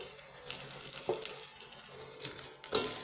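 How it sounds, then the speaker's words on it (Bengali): Coriander, cumin and cinnamon powder frying with onions in a pan for a papaya masoor dal, a steady soft sizzle with stirring scrapes and a couple of louder bursts. "এবার আমি মশলাটা একটুখানি ভেজে নেব"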